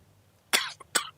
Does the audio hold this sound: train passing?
no